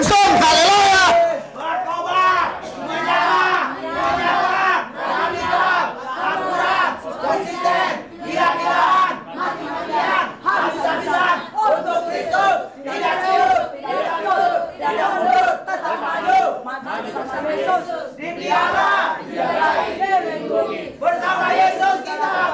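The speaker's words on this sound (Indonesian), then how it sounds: "Sorak-sorai buat Tuhan. Haleluya, yel-yel, langsung haleluya." A church congregation at a revival service cheers and shouts hallelujah together. The loud crowd roar pulses in rapid rhythmic bursts for the whole stretch, with voices overlapping close and energetic.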